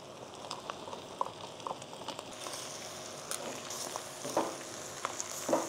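Hotdogs and sweet ham frying in a pan for baked macaroni, giving a soft, steady sizzle broken by scattered small pops and crackles.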